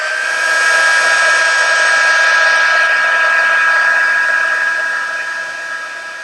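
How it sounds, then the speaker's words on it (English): An embossing heat tool blows hot air over a Stampin' Up paper craft piece, a steady close whirring hiss that holds evenly for several seconds and then eases slightly toward the end. "We're going to take our embossing heat tool and heat that up."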